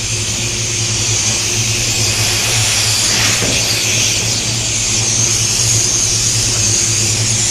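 A powered air blower dries a wet surface, producing a loud, continuous roaring whoosh with a steady low hum that runs unbroken and close throughout.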